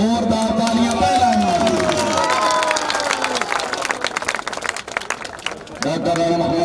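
Crowd applause at a kabaddi match prize ceremony in Sargodha, loud and sustained with dense clapping and a crowd babble, mixed with an announcer's voice over a loudspeaker, fading mid-clip and then rising again with the voice.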